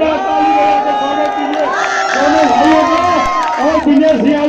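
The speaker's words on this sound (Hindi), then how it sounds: "एक बार जोरदार ताली" A large crowd at a Samajwadi Party political gathering in Varanasi, held over a planned statue of Mulayam Singh Yadav, cheers and shouts loudly and continuously. The many raised voices form a dense, steady roar, close and full throughout.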